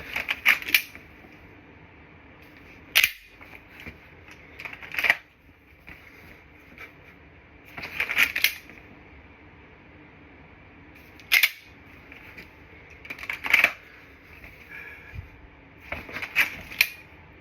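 A CZ P-10C pistol is dry fired, giving sharp isolated clicks at irregular intervals of a few seconds over a quiet, faintly hissing background, with no talking.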